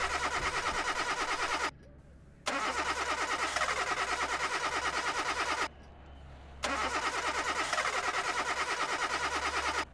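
A car's starter motor cranks repeatedly without the engine catching: long, steady, rapid whirring runs broken by two short pauses, loud and close with no voices.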